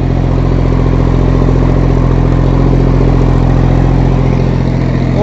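A Massey Ferguson 1035 DI 35 hp tractor engine runs steadily at about 1700-1800 RPM driving a new 6-foot Shaktiman rotavator, a loud, continuous diesel drone with low harmonic rumble and no talk.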